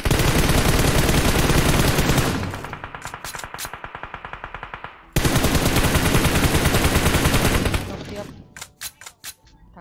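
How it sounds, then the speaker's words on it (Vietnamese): Loud, rapid automatic gunfire from the battle royale PUBG Mobile, played in a tournament, fills the first seconds. Then come distinct shot bursts, another sustained volley, and trailing single shots. "Bắn bọn nhà kìa."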